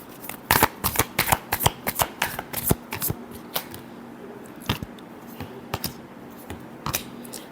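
Tarot cards being shuffled by hand, close and fairly quiet, with rapid irregular riffling snaps and flicks that continue for several seconds.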